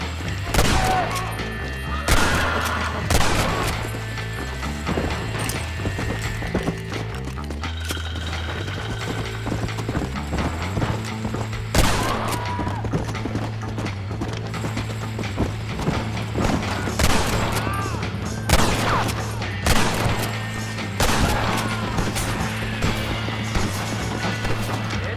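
Western gunfight in a Red Dead Redemption video game during the Landon Ricketts mission: sharp, loud gunshots crack irregularly in scattered bursts over galloping horse hooves and a steady low musical score, with no talking.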